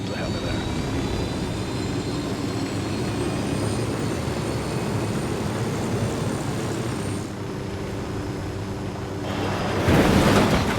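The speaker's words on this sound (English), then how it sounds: "Landing on the radio tower, or getting off on the radio tower at least. I will probably not keep the heli there." A helicopter in the video game Ghost Recon Wildlands gives a steady whirring rotor and engine drone. It dips slightly, then swells into a rushing burst at the end.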